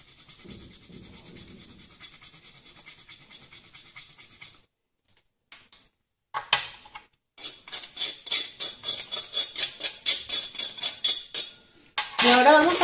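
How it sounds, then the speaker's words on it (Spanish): Dark chocolate grated over vanilla panna cotta by hand, a run of rhythmic scraping strokes building steadily, with a few light clinks of utensils before it, close and fairly loud with no talking. "vamos a coger un trocito de chocolate negro y se lo vamos a rallar a la panna cotta de vainilla"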